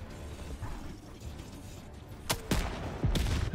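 Gunfire in the video game Helldivers 2, a few sharp shots over a steady battle din, with the loudest cracks clustered near the end.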